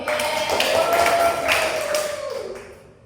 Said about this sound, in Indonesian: kita berikan tepuk tangan kepada Mbak